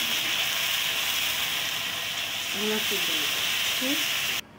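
Chopped onion fries in a pan with black pepper, ginger paste and garlic paste, giving a steady close hiss and sizzle that cuts off abruptly near the end.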